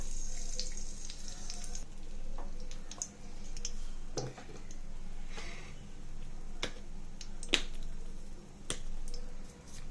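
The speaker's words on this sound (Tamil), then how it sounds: "கடுகு ஆட் பண்ணி பொரியட்டும்" Mustard seeds sputter in hot oil in a kadai while ponnanganni keerai poriyal is being cooked, giving a soft steady sizzle broken by scattered sharp pops and crackles.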